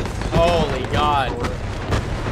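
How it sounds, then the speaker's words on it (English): Bombing-run explosions in the World War II shooter Hell Let Loose, with Sherman tanks present, rumble as a continuous low boom-filled barrage under a speaking voice and whistling descending tones. "Is that a bombing run, too? It's a bombing run."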